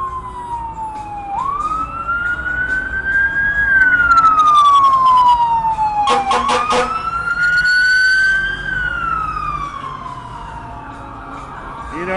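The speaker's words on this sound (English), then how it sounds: "we hear the sirens, the ambulances" Emergency vehicle sirens, likely ambulances, wail loud and steady through a busy street, rising and falling in long sweeps with a brief burst of rapid yelp tones partway through.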